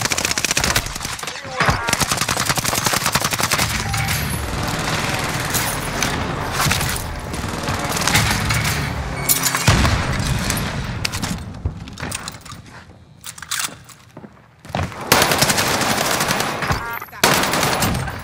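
Call of Duty Warzone gunfire on Rebirth Island crackles in dense, loud automatic bursts with brief lulls and booms, while players chatter over the shooting.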